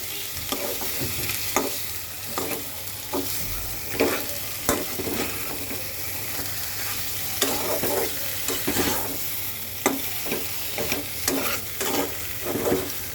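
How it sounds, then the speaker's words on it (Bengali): Country chicken meat stirred and fried in a pan with a nut paste, a continuous close sizzle broken by repeated scraping stirs about once a second, with no voices. "মাংসটা সুন্দর করে মিক্স করে দেবো"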